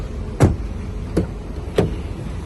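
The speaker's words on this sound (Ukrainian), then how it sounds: "задні електросклопідіймачі" Three short electric window motor whirs from the rear windows of a 2017 Renault Logan Stepway, brief separate bursts spaced under a second apart inside a quiet cabin.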